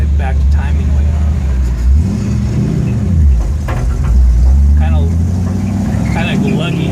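A Ford F100 V8 truck engine with an Edelbrock 1405 carburetor and ignition timing backed way off idles rough with a low, uneven lope, revving slightly now and then, close by, with someone talking over it at times.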